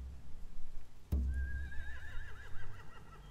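A horse whinnies in a long wavering neigh after a sharp thump, set amid low rumbling ambience in The Walking Dead video game, moderately close.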